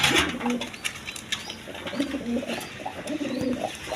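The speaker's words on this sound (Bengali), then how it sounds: "এখানে এক পেয়ার লাহোরি শিলাজি কবুতর আছে" A pair of Lahori Shilaji pigeons coo in repeated low, rolling phrases, fairly close, with a few brief soft bird noises between the calls and no talking.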